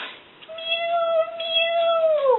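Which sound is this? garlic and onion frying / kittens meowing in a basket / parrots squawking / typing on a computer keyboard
kittens meowing in a basket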